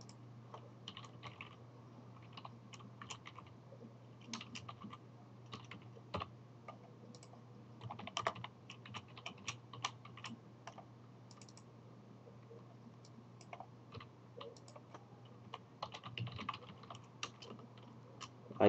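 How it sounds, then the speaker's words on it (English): Quiet computer keyboard typing, irregular soft key clicks in uneven bursts with brief pauses, under a low steady hum. "I'm going to go ahead and put in my MySQL information here."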